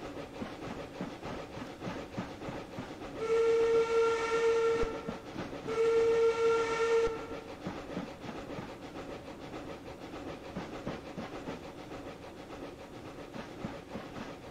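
A model 2-6-0 Mogul steam locomotive on a narrow gauge layout runs with a steady mechanical rumble, and its whistle sounds two loud, sustained blasts with a short gap between them.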